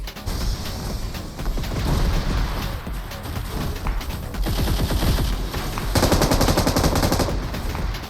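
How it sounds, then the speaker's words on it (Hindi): Gunfire in BGMI PUBG Mobile's Mecha Fusion mode aimed at a robot: dense, loud bursts of rapid automatic shots and impacts, continuous and intensifying toward the end, without talk. "यहाँ पे दूर से भी पूरे मेरे रोबोट के ऊपर चला रहे गोली"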